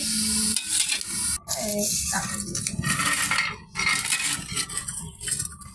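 Puffed rice (muri) stirred while dry-frying in a pan in a village kitchen, a continuous close scraping and rustling sizzle with brief scrapes and clinks of the stirring tool against the pan, steady and loud throughout.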